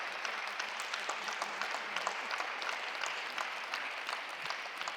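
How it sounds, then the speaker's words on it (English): Applause from an audience at the opening of an Ellsworth Kelly Black & White exhibition fills the room, a steady dense patter of many hands clapping, heard at moderate distance without speech. "The applause."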